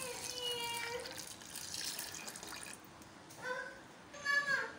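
Two cups of water poured from a measuring cup into a sago and peanut tiffin mixture, a steady close splashing and trickling that fades midway and then returns in a brief second pour.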